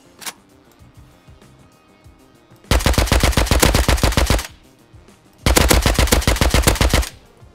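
Two long bursts of rapid automatic gunfire in the video game Rust, loud and close, each lasting about two seconds with a pause between, following a quieter stretch with a single early shot.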